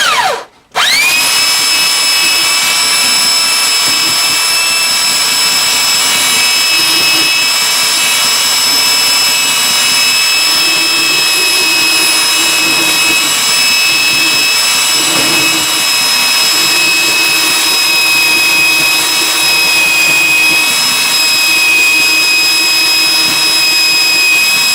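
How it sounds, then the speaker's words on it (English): A belt sander on a Harmony H162 acoustic guitar bridge spins up after a brief click and runs as a loud, steady high-pitched whine with a constant droning motor tone for over twenty seconds. "I'm just using a belt sander"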